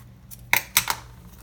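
Scissors snipping through thick, many-times-folded paper while making a paper wallet: two or three short, crisp cuts close up in an otherwise quiet room.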